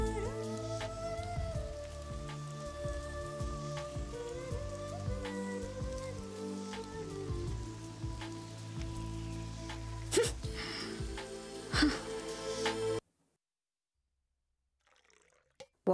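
Steady rain falls beneath background music, continuous for about thirteen seconds before cutting off abruptly into near silence.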